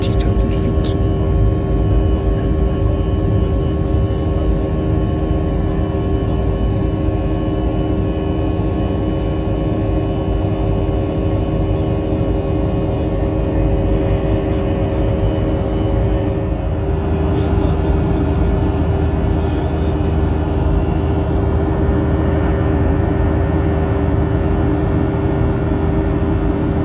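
Steady, loud cabin roar of an airliner's engines cruising near 30,000 feet on a Gombe to Abuja flight, a constant broadband drone with a low hum that continues unbroken throughout.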